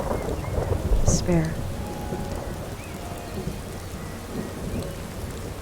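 Steady rain falls in the Skyrim video game while a thunderclap rumbles low and heavy early on, then fades under continuing rainfall; a voice speaks briefly and a faint tonal sound sweeps through near the start.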